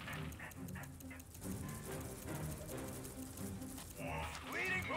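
Dogs bark in the video game Command & Conquer Rivals, short yaps and whimpers mixed into busy battle sounds and background music, with a voice talking over much of it.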